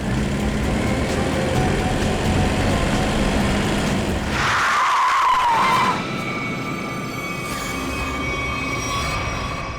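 A car skids to a sudden stop on a road with a loud tyre squeal over steady traffic rumble, followed by lingering engine and road noise.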